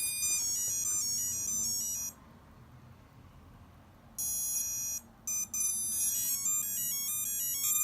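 Electronic beeping plays in rapid stepped tone sequences, pausing for about two seconds before resuming in bursts, fairly quiet over a low hum.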